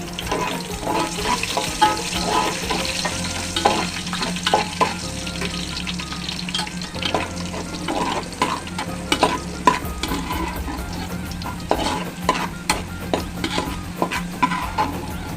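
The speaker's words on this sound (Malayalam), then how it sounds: "അത് വറുത്ത് കോരുകയാണ്" Raisins and cashews frying in oil for biryani, a steady close sizzle with repeated scraping and stirring clatter throughout, no voices.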